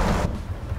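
Rain and a rumble of thunder in the American Truck Simulator video game, a loud broadband wash in the opening moment that drops to a steadier, quieter rain hiss with low rumbling underneath.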